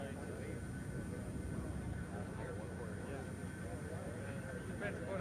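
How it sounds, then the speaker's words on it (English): A quiet airplane passes overhead, a faint, steady engine drone under a person speaking, with a constant tone lingering throughout. "It's a quiet airplane."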